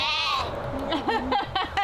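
Baby sheep bleat close by at an RV resort in Naples, Idaho: a long wavering bleat, then several shorter higher calls in quick succession, with a person's voice mixed in.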